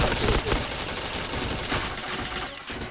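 Rapid bursts of video game gunfire in PointBlank ring out loud and dense, a busy clatter of overlapping shots with no clear pauses throughout.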